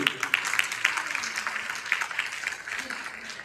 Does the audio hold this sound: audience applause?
yes